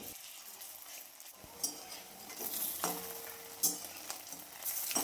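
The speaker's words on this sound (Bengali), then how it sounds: "দেখুন 4টে ফুলকপির বড়া হয়ে গেল, বাকিগুলোও ঠিক একইভাবে ভেজে নেব" Cauliflower fritters frying in oil, with a continuous soft sizzle broken by several sharp clinks and scrapes of a utensil against the pan.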